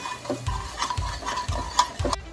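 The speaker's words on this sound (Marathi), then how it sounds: "आता हे मसाले व्यवस्थित परतून घ्यायचे" Chili powder, salt, coriander-cumin powder and garam masala being sautéed and stirred in a pressure cooker for spicy brinjal curry, heard as close, rhythmic scraping strokes roughly twice a second with a light sizzle and no talking.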